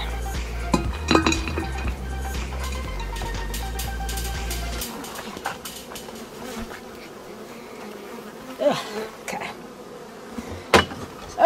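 Bees buzz thickly around a hive feeder, a dense close drone mixed with light clinks of the feeder being handled, and a few voices sound faintly.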